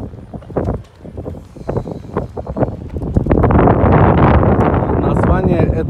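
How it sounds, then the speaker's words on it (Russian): Strong wind gusts buffet the microphone outdoors at a large casino parking lot, a loud roaring rush that builds and stays steady, with irregular thumps and rustling throughout. "На улице ветер."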